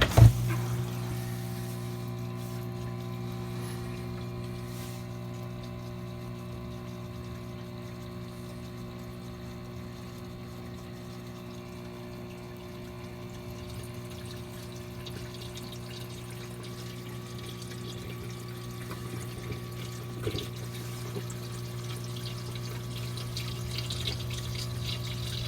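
Water drains through a sump return pipe, producing a steady low gurgling rush with a constant pump-like hum, moderately faint and continuous throughout with no talking.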